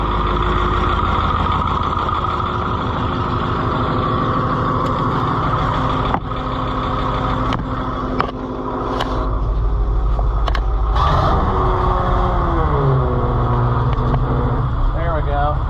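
A White 4-180 tractor engine idles with a heavy low rumble, then revs up so the pitch rises and holds higher near the end, with a few clanks along the way.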